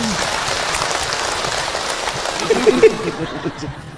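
An audience at a parenting talk claps for Hilman. A steady patter of applause from many hands comes from nearby and tapers off near the end with a few laughs.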